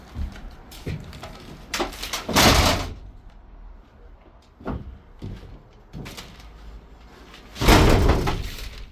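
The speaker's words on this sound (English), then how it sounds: "Let me open the rear door." Rear cargo doors of a 2018 Ram ProMaster 2500 high-roof long-wheelbase van swing open with several close metallic clunks, latch clicks and rattles, with two loud heavy bangs as the doors are worked, and no talking.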